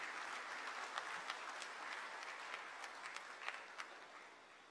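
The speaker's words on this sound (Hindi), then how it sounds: "उनके भी सम्मान में एक बार जोरदार तालियां बजाएं" Loud, sustained applause from a large crowd at a political party's constitution council gathering in Mumbai, honouring party workers and fundraisers, with a dense steady roar of clapping and a few sharper claps standing out.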